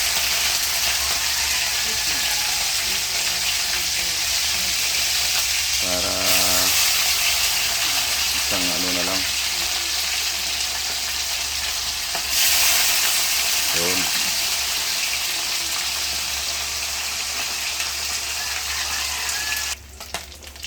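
Fish pieces frying in a pan of oil that is running low, four pieces at a time. A loud, steady sizzle fills the whole stretch, with a few soft clinks and scrapes of a utensil.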